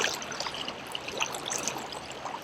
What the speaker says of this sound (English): This water is moving swift, fairly swift, not full speed